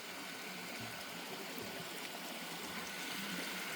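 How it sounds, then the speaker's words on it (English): A fast-flowing forest creek at night, a steady broad rush and gurgle of water that stays even throughout, heard fairly faintly. "Creek is doing good. It's going too fast."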